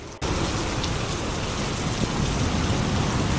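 Steady, dense rain pours down during a storm, a continuous loud hiss of drops on surfaces that starts abruptly and holds unbroken throughout.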